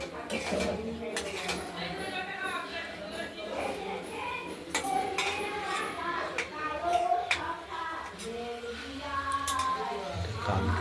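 A utensil stirs rohu fish curry with potatoes and coriander in a pot, making repeated metallic clinks and scrapes close by while a person talks throughout.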